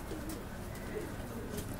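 Pigeons coo softly in a small pigeon farm that also keeps an Australian dove, low murmuring coos over steady background noise for a brief moment, with no clear talk.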